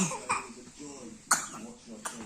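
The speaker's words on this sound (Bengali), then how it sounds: "কি হলো এত কাশি কিসের?" A child coughs three times in short, sharp bursts spaced about a second apart, close to the microphone, with faint voiced sounds between the coughs.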